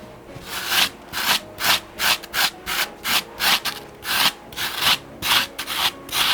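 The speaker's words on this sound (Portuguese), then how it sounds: "eu vou lixar agora fazendo esse movimento que eu quero dar" Sandpaper rubs in rhythmic back-and-forth strokes over a sculpted Mickey shoe, about a dozen close, scratchy passes with short pauses between them.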